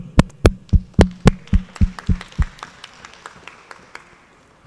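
A few people clapping for conference panelists, sharp distinct hand claps in a quick steady rhythm that thin out and fade, close and sparse rather than a full crowd.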